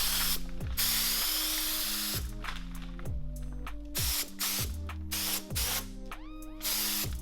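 A paint spray gun works on a 2019 Subaru STI rebuild, giving a hissing spray in bursts separated by rhythmic ratcheting mechanical clicks, fairly quiet and close, with no talking.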